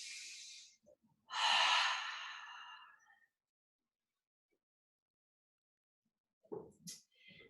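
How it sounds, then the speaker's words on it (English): During a slow yoga session, a long deep exhale is heard alone and close to the microphone. It follows a shorter breath and is followed by a long silence, then a few faint breathy sounds. "Keep breathing."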